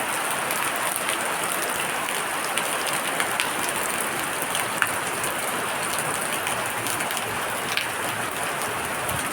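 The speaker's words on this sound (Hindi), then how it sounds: "आप लोग देख सकते हैं कितना बारिश हो रहा है।" Heavy rain pours down steadily in a house where water has flooded in, a dense, even hiss of drops with scattered louder taps on nearby surfaces, continuous and close throughout.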